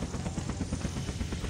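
A helicopter landing on a beach in the survival game Unturned, its rotor thumping in a fast, steady pulse, close and fairly loud over a continuous engine roar.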